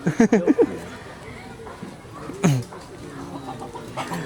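A chicken clucks in a quick burst of short calls near the start, with a louder squawk midway over faint background noise.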